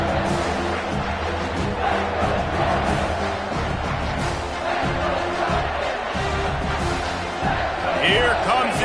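A home crowd roars at an American football game as the defense tries to get off the field on third down, a dense, sustained wash of cheering and shouting beneath a commentator's voice.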